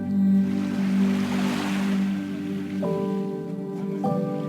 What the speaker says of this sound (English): waves crash against the shore